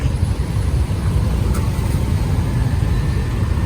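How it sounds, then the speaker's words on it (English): Night traffic on a busy, crowded Athens city street, a steady low rumble of passing cars and engines close by, with no speech. "Still super crowded with traffic"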